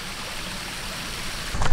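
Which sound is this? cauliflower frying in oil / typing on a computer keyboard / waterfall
waterfall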